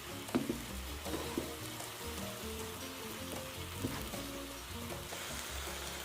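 Pinakbet vegetables are stirred in a hot pan with a continuous soft sizzle and frying hiss, broken by light scraping and stirring clicks, quiet and close.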